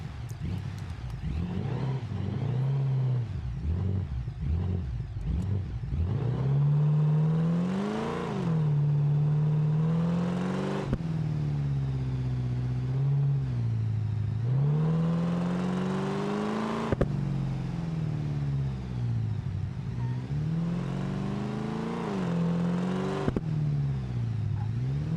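A car engine in BeamNG climbs through hard revs, then drops sharply with each downshift, the pitch sweeping up and down repeatedly, loud and steady with no talk.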